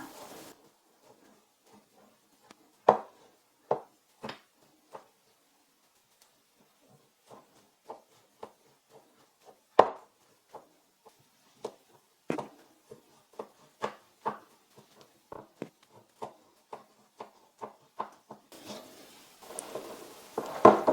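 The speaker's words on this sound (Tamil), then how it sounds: "இப்போ நம்ம எந்த சைஸில் நம்மளுக்கு வேணுமோ அந்த சைஸில் நம்ம கட் பண்ணிக்கலாம்" A knife cuts through a tray of set sugar-free coconut burfi, giving sparse sharp taps at first that quicken into a steady run of close, crisp knocks on the board, with no voices.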